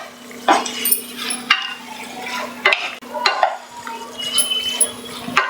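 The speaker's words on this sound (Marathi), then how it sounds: "किमा घालून मस्त परतून घ्यायचं आहे" Minced meat kheema frying in a pan while being stirred, a fairly loud sizzle broken by repeated scraping strokes of a spoon against the metal, with a steady hum beneath.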